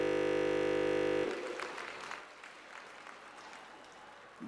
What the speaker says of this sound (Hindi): एक बार जोरदार तालियां बजा नरेंद्र मोदी जी के लिए